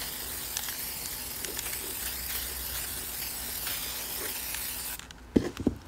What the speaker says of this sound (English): Now I'm going to spray erratically with silver.